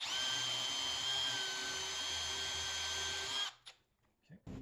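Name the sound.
power drill drilling a hole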